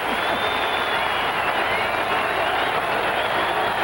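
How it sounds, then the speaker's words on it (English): A packed college football stadium crowd roars continuously as the Michigan Wolverines take the field for the 1979 Ohio State–Michigan game, a dense, loud wall of cheering and shouting with no gaps. "I can shout, Ara, but I can't outshout that crowd."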